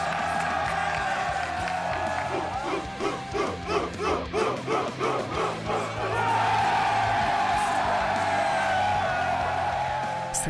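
Cadets at a military academy sports festival chant in unison with rhythmic shouts, then break into loud sustained crowd cheering and whooping.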